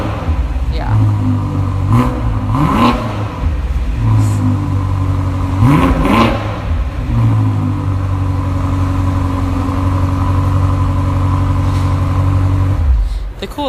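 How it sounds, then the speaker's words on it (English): A BMW M SAV's M engine revs repeatedly through its M-tuned exhaust, rising sharply in pitch several times and falling back to a steady idle-like drone, loud and close. "That's the M-tuned exhaust system, which is fantastic"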